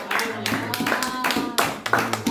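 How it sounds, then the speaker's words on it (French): Church congregation applauding for the Lord, a brisk rhythmic wash of many hands clapping close and loud, with voices mixed into the clapping. "Acclamons pour le Seigneur."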